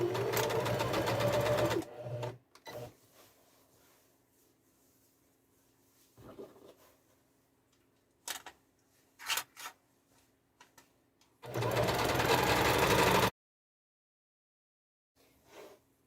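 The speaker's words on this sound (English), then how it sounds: "I'll get my sewing machine and stitch this seam here." Two loud bursts of a sewing machine running fast, stitching a tote bag seam steadily for a couple of seconds each, separated by quiet handling noises and small clicks.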